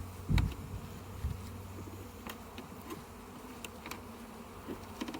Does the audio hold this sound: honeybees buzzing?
yes